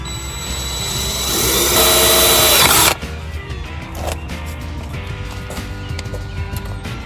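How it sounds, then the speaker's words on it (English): A power drill boring a pilot hole to mount a prop guard, a close, loud rising whine lasting about three seconds that stops abruptly, followed by quieter handling knocks and clatter. "Okay, so you got the pilot hole drilled."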